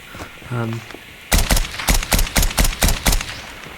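An SKS semi-automatic rifle firing in COD Mobile, a steady series of about eight loud, close single shots at an even pace, preceded by a brief electronic game tone and faint talk.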